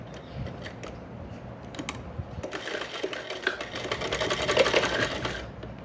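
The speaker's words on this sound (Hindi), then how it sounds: "हम इसे स्टिच करते जा रहे हैं, इस तरीके से रखते जा रहे हैं और इसे स्टिच करते जा रहे हैं" A sewing machine stitches piping onto a baby frock made from waste cloth, starting as a quieter run and then speeding into a rapid, close mechanical chatter that grows louder toward the end.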